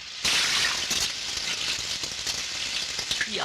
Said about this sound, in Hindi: ये आवाज कैसी? पानी की आवाज होगी।